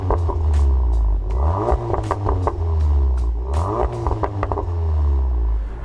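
Volkswagen Golf 7.5 R hot hatch with larger, louder exhaust tips revs its engine, rising and falling in repeated sweeps with rumbling exhaust and mechanical clatter, close and loud, no talking.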